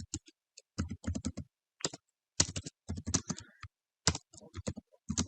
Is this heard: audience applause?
no